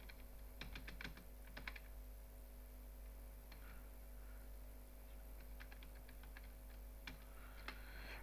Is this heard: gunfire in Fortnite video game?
no